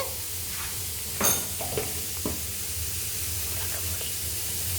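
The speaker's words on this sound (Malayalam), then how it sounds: "അടുത്ത് നമുക്ക് വലിയ സവാള, ഇത്രയുള്ള വലിയ സവാള എടുത്തിട്ട് അത് അരിഞ്ഞിട്ട് മഞ്ഞൾപ്പൊടി ഇട്ട് കൊടുക്കുന്നുണ്ട്, ഉപ്പ് ഇടുന്നുണ്ട്." Chopped large onions with turmeric powder and salt frying in a pan, a steady soft sizzle with a few scraping stir strokes near the middle, close and alone with no talking.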